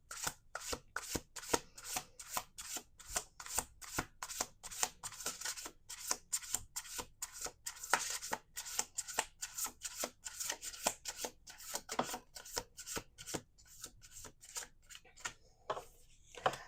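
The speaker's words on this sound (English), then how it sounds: "Two more shuffles." Tarot cards are shuffled by hand in quick repeated riffles and slaps, a crisp rhythmic patter that runs steadily for many seconds, close and fairly quiet, with no voice over it.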